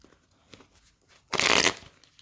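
A single brisk riffle of tarot cards being shuffled, close and crisp, lasting about half a second after near silence.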